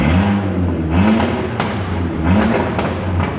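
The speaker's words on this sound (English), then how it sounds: "It is no exhaust as well, so it is loud." A VW Caddy van running with no exhaust revs hard, a loud, raw engine roar rising and falling in short bursts, close by and filling the whole moment.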